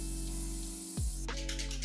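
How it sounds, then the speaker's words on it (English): Airbrush from a TEMPTU One kit spraying excess foundation onto a towel, a steady close hiss that shifts and brightens partway through, with no talking. "I am just going to spray the excess foundation onto my towel again."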